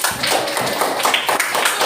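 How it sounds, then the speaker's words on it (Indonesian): Schoolchildren clap together in a classroom, a loud, close burst of dense rapid clapping from many hands with some voices mixed in. "Oh iya, bagus, tepuk tangan."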